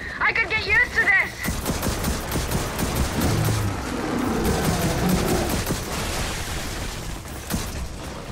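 Gunfire in the shooter video game Gears of War 4, dense rapid bursts of automatic shots and booming impacts close by, with voices talking over the start.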